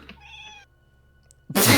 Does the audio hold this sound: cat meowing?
yes